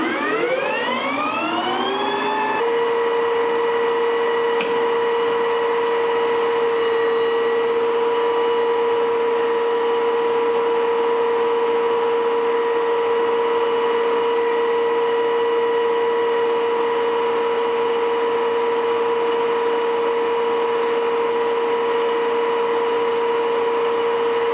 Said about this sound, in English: we're gonna max out the speed on the lathe, and we're gonna take our first rough cut with this high-speed steel